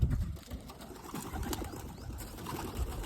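Soft, low pigeon cooing drifts through a quiet background with faint rustling, the calls muffled and somewhat distant.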